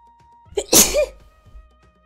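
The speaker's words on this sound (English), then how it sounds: "I'm gonna sneeze" A single loud, sharp sneeze from a nearby person with a brief intake of breath just before it, followed by quiet.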